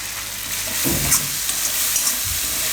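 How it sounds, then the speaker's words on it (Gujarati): Raw tomato sambharo being stirred in a pan with sugar added until it melts, a soft continuous sizzle with faint scraping strokes of the spoon, steady and close, with no talking. "થોડીક વાર ફેરવી લેવાનું ખાંડ ઓગળી જાય ત્યાં સુધી"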